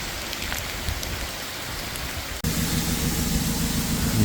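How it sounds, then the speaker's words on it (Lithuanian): Heavy rain falls in a steady, dense hiss of drops on a surface, with the sound abruptly turning louder and fuller about halfway through. "prognozavo lietų ir gan neblogas"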